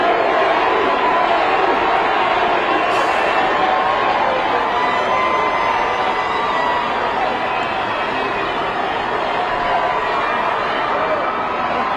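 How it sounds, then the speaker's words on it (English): A dense, roaring crowd at the Kansas City Chiefs Super Bowl parade chants "Andy" for head coach Andy Reid, a loud continuous wall of massed voices with no clear breaks. "I believe those were Andy chants."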